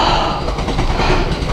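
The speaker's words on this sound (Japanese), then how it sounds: "お、電車が通ってる。" A train rumbles past with a continuous broadband roar and faint rhythmic clatter, close and fairly loud for the short stretch, near a coastal road on the Sea of Japan in Niigata.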